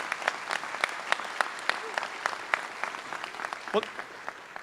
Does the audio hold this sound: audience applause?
yes